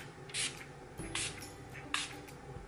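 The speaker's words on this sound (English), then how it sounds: "I'm going to take the Urban Decay All Nighter Setting Spray and just spritz my face." Three short hissing bursts of Urban Decay All Nighter setting spray misted onto a face, spaced about a second apart, fairly quiet and close with no talking.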